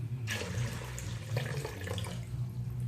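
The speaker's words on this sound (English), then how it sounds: "We need some more water." Tap water runs into a pot of pinto beans, a soft continuous splashing flow that starts abruptly and continues steadily at low volume.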